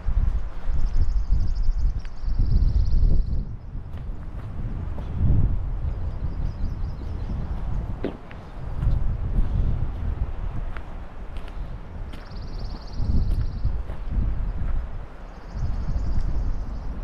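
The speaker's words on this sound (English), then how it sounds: "So windy." Gusting wind on an early spring backcountry canoe trip, a broad rushing roar swelling and easing in waves with buffeting against the microphone, fairly loud and steady throughout.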